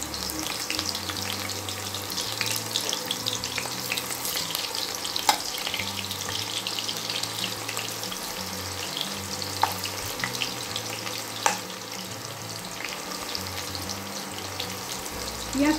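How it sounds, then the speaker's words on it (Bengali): Onions frying in hot oil for a Bengali aubergine masala, a steady dense sizzle with occasional sharper crackles and pops, continuous and close throughout with no talking. "এবার আমি পেঁয়াজটাকে লাল লাল করে ভেজে নেব"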